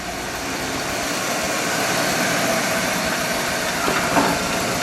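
A 1978 Dodge Magnum XE with a single center exhaust idles steadily, a low, even rumble heard up close with a broadband hum and a slight swell near the end.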